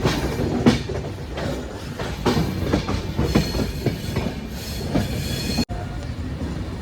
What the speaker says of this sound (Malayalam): ഈ ട്രെയിനിൽ ഡൽഹിയിലൊക്കെ പോകാൻ പറ്റിയ ബെസ്റ്റ് ട്രെയിനാണ്